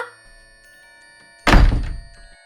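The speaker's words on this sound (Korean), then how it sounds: "이내 쾅 하고 방문 닫히는 소리가 났다" One loud, heavy slam of a room door thuds suddenly after a near-silent stretch, then rings off briefly.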